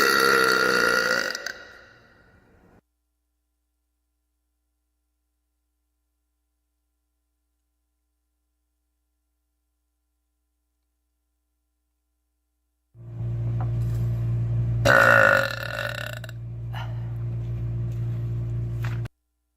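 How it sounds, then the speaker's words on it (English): Burp in a concert venue bathroom, a short loud belch with resonant room echo, followed after a long silence by a steady low hum and a sharp clatter. "How the burping acoustics sound here."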